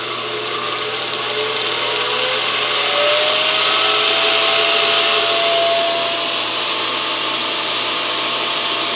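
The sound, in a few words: treadmill motor spinning CNC mill spindle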